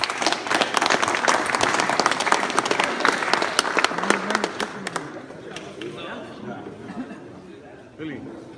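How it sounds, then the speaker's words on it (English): Applause for award winners at a corporate safety kickoff event, a dense burst of clapping that fills the first five seconds, then thins to scattered claps, murmuring and chatter from the crowd. "one more last round of applause for all our winners"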